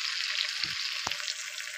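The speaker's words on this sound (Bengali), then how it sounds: "এরপরে ভাজা মাছটা দেবো, একটুখানি হয়ে যাক" Fried fish added to a pan of curry cooked at night outdoors near the Sundarbans forest, giving a steady close sizzle and hiss with a couple of soft stirring knocks.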